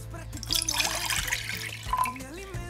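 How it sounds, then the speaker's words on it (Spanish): Water is poured into a bowl while making gelatin for a cream and fruit cake, giving a soft, steady splashing trickle that runs beneath a person talking. "en un cuenco vamos a echar el agua"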